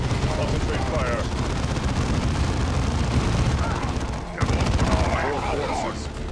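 Continuous battlefield gunfire from the real-time strategy game Dawn of War 2, Space Marine squads shooting in a dense, roaring barrage with overlapping shots and blasts, a brief dip near the end before it resumes, with voices speaking under it.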